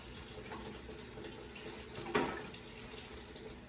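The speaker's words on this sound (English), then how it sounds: "With the water running, you'll wash your instruments." A sink faucet runs steadily while dental instruments are washed under the stream, a quiet continuous splash broken by one brief sharper clatter midway.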